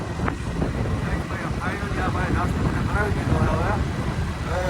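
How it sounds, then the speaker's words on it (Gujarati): Strong outdoor wind buffets the microphone with a steady low rumble while people talk over it on a road trip outing. "અહીંયા પવન બહુ છે."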